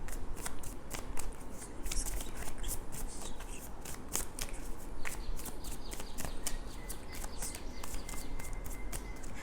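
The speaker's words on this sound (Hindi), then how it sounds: "अब यहाँ पे मुझे स्ट्रेंथ कार्ड के लिए एक कार्ड निकालना पड़ेगा" A deck of tarot cards is shuffled continuously up close, a dense riffling patter with sharper flicks throughout, steady and fairly loud with no voice over it.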